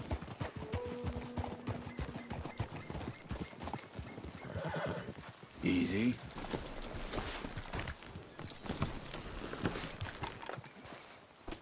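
Horse neighing and whinnying in Red Dead Redemption 2, a mangy-looking horse, with clip-clop hooves and game ambience; a loud whinny bursts out mid-clip over steady background activity.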